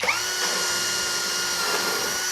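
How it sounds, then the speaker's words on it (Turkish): A power drill whirs steadily at high speed as it bores into wood, a continuous close buzzing whine with no talking. "Ahşap delmekte sıkıntı yok."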